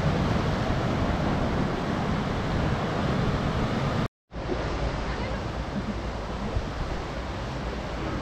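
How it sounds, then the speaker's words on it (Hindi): High tide waves at Om Beach in Gokarna, a constant broadband rush of surf with wind noise against the microphone, interrupted by a brief cut of silence midway. "और ये हाई टाइड्स, वाओ एकदम नदी के जैसा लग रहा है।"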